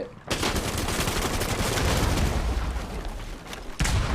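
Rainbow Six Siege firefight with shots fired straight through walls: rapid, close, loud automatic gunfire rattling almost continuously, a brief pause near the end, then more bursts.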